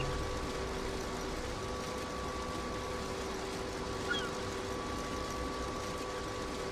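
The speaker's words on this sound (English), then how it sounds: "Now I got to move it. I am starting the engine." A tractor engine in Farming Simulator 19 starts and moves off, a steady low mechanical drone with a constant whine that holds evenly throughout.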